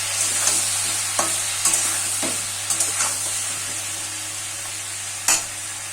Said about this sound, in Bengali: দিয়ে এখন একটু নাড়াচাড়া করে দেবো।